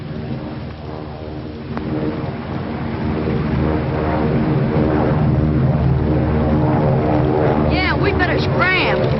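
A propeller plane drones steadily, its buzzing hum swelling louder as it draws closer, with a brief voice near the end.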